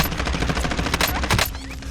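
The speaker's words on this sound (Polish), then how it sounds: "Jest gdzieś z przodu snajper, słychać strzały bardzo głośno e, i wyraźnie." Rapid, loud gunfire cracks in Call of Duty Warzone, a sniper's shots mixed with bursts of automatic fire, close and harsh with no talk over them.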